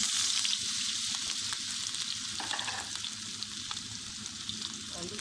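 Potatoes sizzle steadily in hot ghee, a dense, close frying hiss that runs unbroken, with occasional soft stirring scrapes mixed in and no voices.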